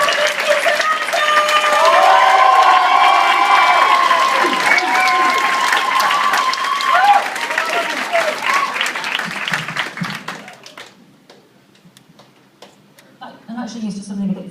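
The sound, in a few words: audience applause and cheering at a stand-up show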